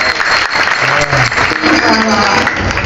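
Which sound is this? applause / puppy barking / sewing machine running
applause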